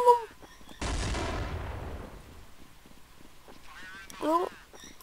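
A single loud sniper rifle shot in Counter-Strike cracks out and rings down over about a second, with speech before and after it.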